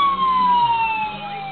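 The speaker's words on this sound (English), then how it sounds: "Has the same four-tone siren that I use in all my cars." A four-tone electronic siren fitted to a 1:18 scale model Holden Commodore SS police car wails loudly and steadily, its pitch sweeping down and shifting between tones alone.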